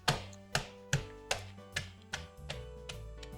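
Freeze-dried strawberries are bashed up in about eight sharp, evenly spaced knocks at a steady rhythm. The sound is close and moderately loud over a faint tonal hum, with no talking.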